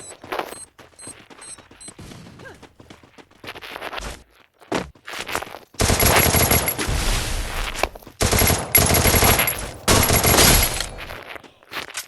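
Gunfire exchanged in the Free Fire battle royale game, in a ranked match: scattered shots early on, then two long, loud sustained bursts of automatic fire separated by a brief pause, with no talking.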